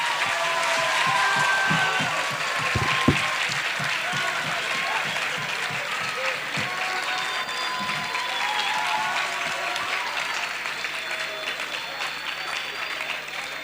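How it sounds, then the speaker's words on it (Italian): An audience at an Italian conference on quality food and wine tourism applauds warmly, with sustained, dense clapping that holds steady for over thirteen seconds and slowly thins, while a voice is heard faintly underneath. "Mi sembra un applauso anche affettuoso"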